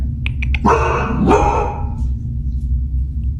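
A few quick high yips, then two loud barks about half a second apart over a constant low hum, fading to the hum alone.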